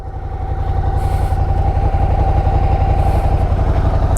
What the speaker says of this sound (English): Bike is in neutral. So this is the engine sound.